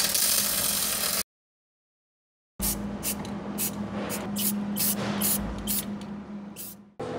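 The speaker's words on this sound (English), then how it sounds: "I'll weld these brackets here onto the axle to hold our brake line." A welder joins brake line brackets onto the axle of a 1967 Ford Mustang, giving a steady close crackling hiss in two runs with a pause between them and sharp pops through the second.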